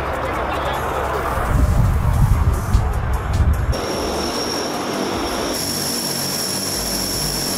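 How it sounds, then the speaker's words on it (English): A Super Guppy, the large bulging-fuselage cargo plane, drones with loud propeller engine noise, swelling in the first seconds and then holding a steady roar with a high whine; a voice talks over it. "Super Guppy, a large cargo aircraft developed by Aerospace Lines."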